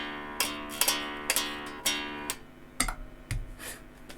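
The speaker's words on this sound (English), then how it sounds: "Obviously we've got the tuner, which sounds like this." Guitar tuner pedal on a pedalboard clicking while strummed and picked guitar notes ring through it, a handful of sharp attacks with sustained tones fading between them, close and clear.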